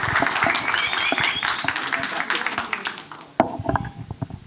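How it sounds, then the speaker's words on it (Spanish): Audience at a tech conference applauding a speaker as she takes the stage, a full burst of clapping that thins out, with scattered claps and voices continuing after a short lull. "Fuerte el aplauso."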